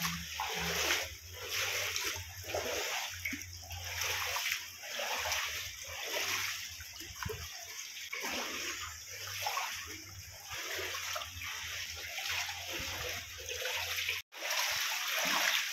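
Water rushes and splashes continuously nearby as it flows between two hills near Dehradun, Uttarakhand, a sloshing flow with uneven surges, a brief dropout near the end.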